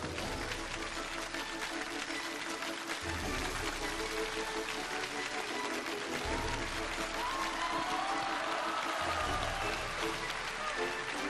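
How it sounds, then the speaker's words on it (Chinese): Sustained audience applause welcomes a guest speaker, a PLA Hong Kong garrison training regiment chief of staff, on a televised lecture-show stage; a dense, loud, steady wash of clapping runs the full length without a break. "掌声有请我们今天的开讲嘉宾"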